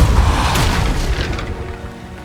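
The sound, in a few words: Depulso spell blast effect in Hogwarts video game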